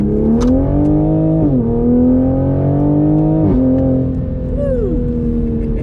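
A new Toyota Supra engine climbs in pitch through two quick gear shifts, revving hard and close, with a brief wheel-spin chirp near the end.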